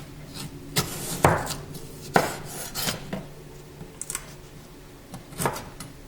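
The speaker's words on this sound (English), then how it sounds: "And now I'm going to just slice it really thin, just like this." A knife thinly slices vegetables for escovitch fish, making irregular crisp taps and thuds on a cutting board, some stronger than others, with no talk.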